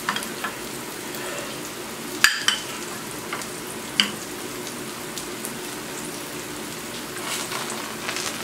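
Herbed potato rösti galettes frying in plenty of fat, a continuous close sizzle with occasional sharp pops and crackles, no voices.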